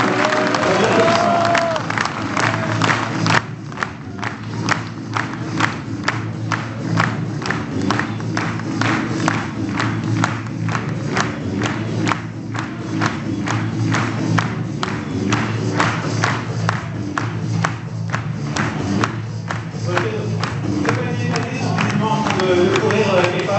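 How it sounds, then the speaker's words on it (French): An audience at a community event applauds steadily for over twenty seconds, with dense rapid clapping mixed with cheering and shouting voices throughout. "je voudrais inviter Ali, Patricia, Stéphanie et Rania, juste pour l'applaudissement"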